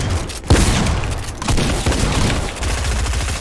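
Gunfire in the Fortnite video game during a competitive finals match, with loud rapid bursts and booming shots packed closely together, near and dense, with no talking.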